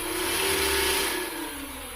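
An Adventure Force Matrixfire toy blaster's motor spinning right after power-on, a close, loud, continuous whirring hum that holds steady for a couple of seconds.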